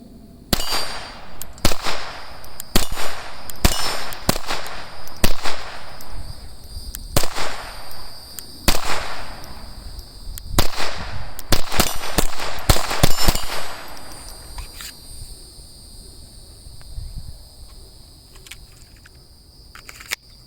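FN 502 Tactical pistol fired in single action, a string of sharp, loud shots in uneven bursts across the first thirteen seconds, some rapid pairs and clusters, then quiet range ambience with faint ringing.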